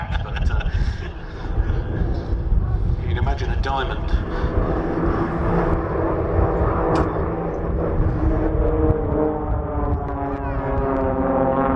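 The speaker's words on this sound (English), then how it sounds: "see formation aerobatics being performed by aircraft of the same type" Vintage aircraft flying formation aerobatics at the Shuttleworth airshow, with a loud, sustained engine drone that rises and falls as the planes pass, under public-address commentary.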